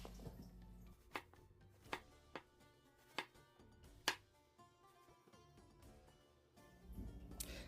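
A kitchen knife slices king oyster mushrooms into thick pieces on a cutting board, giving about six sharp, evenly spaced chops, close and clear against a quiet room.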